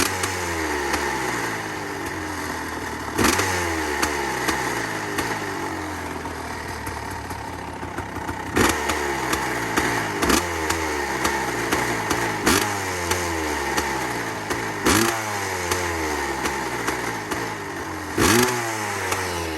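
A Kawasaki KX 500 two-stroke motorcycle, freshly rebuilt and cold-started after sitting for months, idles with a raspy, uneven burble and blips its throttle every few seconds, loud and close, with no voices.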